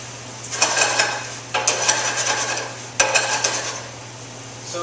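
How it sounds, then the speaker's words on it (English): Jalapenos are stirred and scraped around a sauté pan in three bursts of utensil-on-metal scraping with a faint sizzle beneath, each burst lasting about a second, close and fairly loud over a steady low hum. "The reason why I'm not cooking the jalapenos all the way through in this saute pan"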